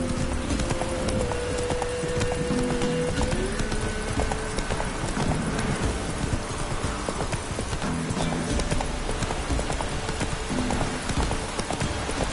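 Roach, the horse in The Witcher 3, gallops with steady rapid hoof clip-clops throughout, close and loud over a constant ambient bed, with a brief whinny.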